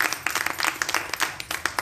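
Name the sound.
women clapping at protest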